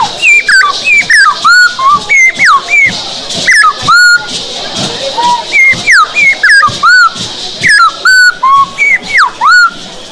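A person whistles an imitation of a sabiá thrush's call: loud, close, repeated short phrases with sliding rising and falling pitch, separated by brief pauses, with no other sound.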